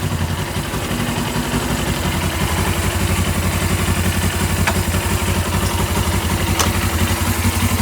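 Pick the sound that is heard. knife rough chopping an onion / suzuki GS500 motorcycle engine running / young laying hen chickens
suzuki GS500 motorcycle engine running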